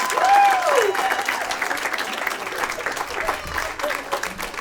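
An audience applauds and cheers for comedian Corey Bell at a live stand-up comedy show, with a full, steady wash of clapping throughout while a voice calls out over it.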